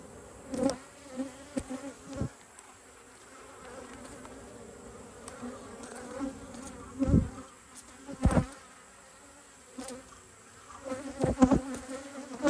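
Honey bees buzz around an open hive during an apiary inspection, a soft continuous drone broken by several close, louder buzzes of individual bees flying past.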